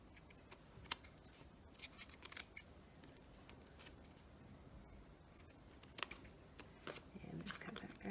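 Scissors cut paper for a craft journal in short, quiet snips scattered across a few seconds, with soft rustling of paper in between at close range.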